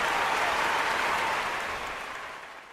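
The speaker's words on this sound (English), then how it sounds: "We're going to give you an applause for that because number 0 is important." Applause from a studio or event audience during a college football show covering Auburn at Arkansas, a dense steady clapping that begins loud and gradually fades.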